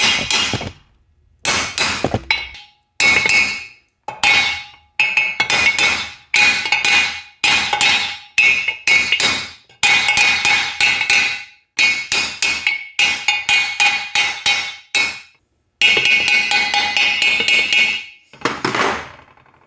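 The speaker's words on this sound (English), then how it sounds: "Then I'll continue gradually tapping it in." Repeated sharp metallic hammer taps drive a part fitted with an O-ring into the bore of a T5 World Class transmission case, coming in quick bursts of strikes separated by short pauses, close and loud.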